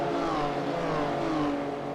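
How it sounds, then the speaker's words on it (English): Race cars in a Absolute Beginners M2 Cup race speed past on the circuit as a pack, a loud, continuous engine roar with rising and falling whine as cars pass close by. "With a whole pack of cars behind them."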